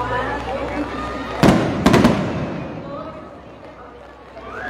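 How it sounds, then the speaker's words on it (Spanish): Fireworks set off at a rainy outdoor pilgrimage near a cathedral: two or three sharp, loud bangs in quick succession over steady crowd noise and voices. "Un poco de pirotecnia que están disparando aquí."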